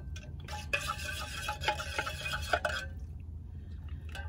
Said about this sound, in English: And then stir up the brew.